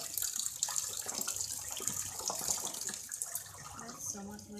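Cold tap water runs and splashes over chowmein noodles being rinsed in a sink, a continuous close gush with faint talk underneath.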